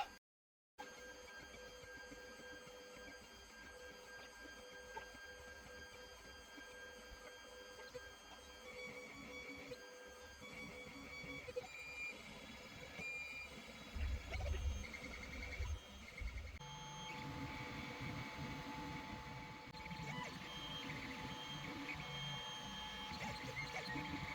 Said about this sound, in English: right now it's printing a brim that goes around it.